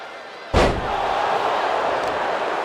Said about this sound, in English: getting slammed onto her face